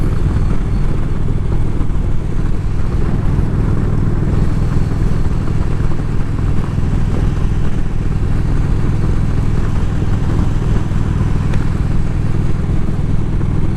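Steady drone of a motorcycle on the ride home, heard loud and close with wind and road noise, running evenly throughout with no voices.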